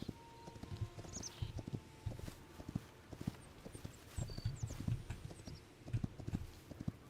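A horse clip-clops along at a steady walking rhythm in the video game Hytale, the hoofbeats soft and moderately close, with faint ambient game sounds and no speech.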